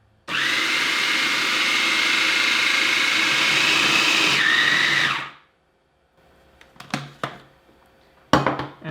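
A blender grinding peanuts into homemade peanut butter, a loud, steady whirring roar for about five seconds before cutting off, followed by a few scraping knocks.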